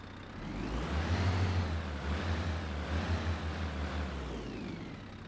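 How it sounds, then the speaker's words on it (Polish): A large bus engine, a BAZ A079 in the OMSI bus simulator game, idles with a deep, steady rumble, a continuous low drone heard up close without any voices. "Dźwięk silnika, jak słyszymy"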